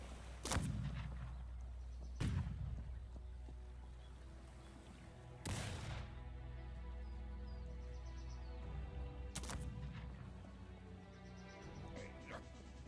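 Heavy artillery in a video game booms several times at irregular intervals, each blast sharp and then rolling away, over a steady low background hum.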